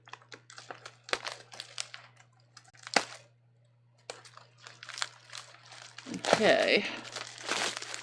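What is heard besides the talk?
snipping open a crinkly package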